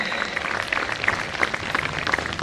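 An audience of ashram residents at a yoga session in Tihar Jail gives a brief round of applause, a moderately faint, steady patter of clapping from a gathered group.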